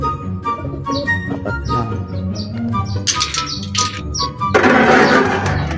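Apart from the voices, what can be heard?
racing pigeons calling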